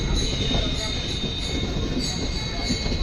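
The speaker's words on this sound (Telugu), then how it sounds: "మన ట్రైన్ మొత్తం కలుపుతున్నారు." Train coaches are coupled together at a railway station, giving steady loud rail machinery rumble with metallic squeal and faint clanks, with a voice talking faintly in the background.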